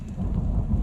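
Heavy rain pours steadily on a countryside hike while a deep thunder rumble rolls underneath, dense and continuous with no voices.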